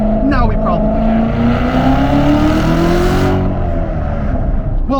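A 2017 Corvette Z06 with a manual gearbox accelerating hard, its loud engine note climbing steadily in pitch before a gear change, with brief tire squeal. Someone talks over the engine.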